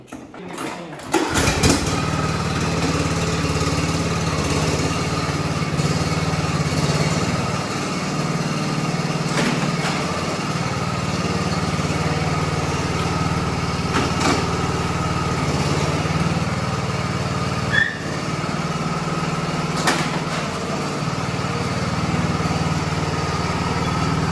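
A riding lawn mower engine runs steadily throughout a test drive, a loud continuous motor drone with small shifts in pitch as it moves, with no talking.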